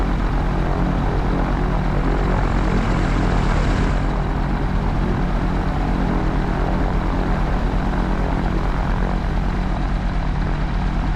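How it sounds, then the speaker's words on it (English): A light propeller aircraft taxiing across a freshly mown grass airfield, its engine droning loud and steady close by for the whole stretch, with no talk over it. "Okay, so engine is started. We are just going to taxi out of the way so it makes nice noise."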